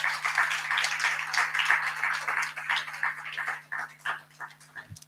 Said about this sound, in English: Give them a round of applause, our young poets.